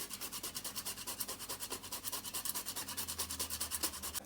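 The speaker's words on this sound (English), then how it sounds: "we're gonna grate a nice portion of nutmeg in here" Nutmeg is grated by hand for a coconut milk sugar cake, making steady, evenly spaced scraping strokes that repeat quickly and close up, with no talk.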